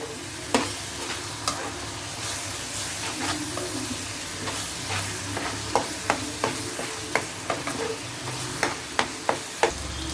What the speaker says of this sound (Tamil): ஒரு அரை ஸ்பூன் மசாலாவை நல்லா பிரட்டி கொடுத்துக்கலாம்